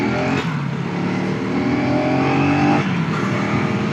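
A KTM Adventure 250 motorcycle engine pulls hard under acceleration on a test ride, a steady loud drone with rising harmonic whine held throughout, no talk over it.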